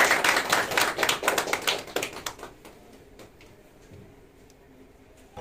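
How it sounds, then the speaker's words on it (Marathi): Audience applause at a farmers' felicitation event, a burst of brisk clapping that fades out after about three seconds, leaving scattered claps and low room noise. "टाळ्या वाजवा"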